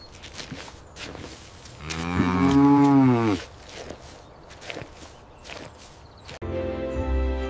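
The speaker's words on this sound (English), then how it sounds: "It's a cow." A cow moos once, long and loud, up close, framed by soft rustling and hoof-like steps, with a brief burst of other sound at the end.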